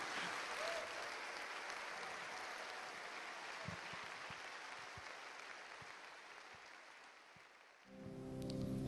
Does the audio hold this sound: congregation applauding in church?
yes